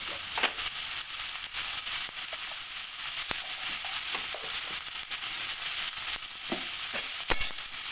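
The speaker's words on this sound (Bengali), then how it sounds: "দিয়ে দেবো গাজর, দিয়ে দেবো ফুলকপি, একটু ভেজে নেবো" Carrot and cauliflower pieces frying in hot oil in a pan for vegetable chops, a steady bright sizzle with scattered crackles and pops and a few sharp clicks of a spatula, no talking.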